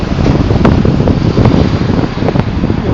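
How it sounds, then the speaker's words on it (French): Strong wind gusting on an empty beach by the sea, roaring and buffeting the microphone in loud, close bursts with a faint wash of surf beneath, no voices. "Trop de vent."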